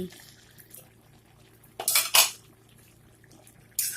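A pot lid is lifted off a simmering dried-fish curry with drumsticks, giving two short bright metallic clanks close by and another clatter near the end, over a quiet kitchen background.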